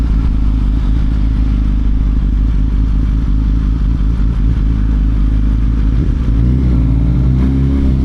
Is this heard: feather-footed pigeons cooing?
no